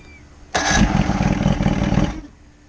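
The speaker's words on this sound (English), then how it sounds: "so the motor cranks fine" A 1994 Johnson/Evinrude 115 outboard motor cranks loudly in one sustained burst of about a second and a half, a rapid chugging turnover that starts abruptly and then cuts off.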